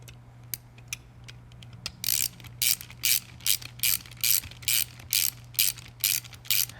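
A hex key or ratchet tool clicks repeatedly while Allen head screws are driven into an Eaton Carter 64200 light-duty ground fueling nozzle, with loud, regular bursts of close ratcheting that follow a few quieter taps.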